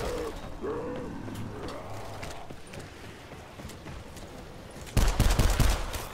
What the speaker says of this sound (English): Four shots and then knife.